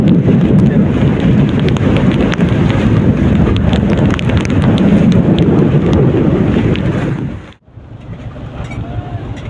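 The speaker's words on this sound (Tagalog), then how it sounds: "Lakas ng hangin." Strong wind roars over the Pacific Ocean during a rough-sea boat crossing, a loud, unbroken buffeting rush on the microphone that briefly drops out near the end before surging back.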